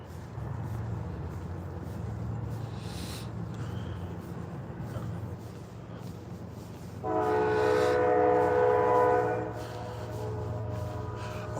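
A train passes at a distance with a rumbling roll, then its horn blares loudly for a couple of seconds before fading, leaving the low steady rumble of the cars.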